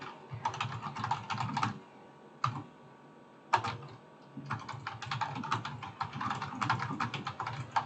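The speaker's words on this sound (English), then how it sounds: "I'll be typing in there." Rapid typing on a computer keyboard, with bursts of clicking keys broken by short pauses, close and fairly loud.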